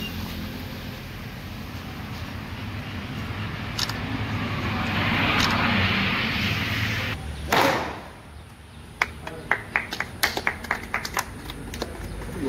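A new John Deere 5210 Gear Pro tractor engine runs with a steady droning rumble that swells and fades. A string of sharp clicks and pops follows near the end.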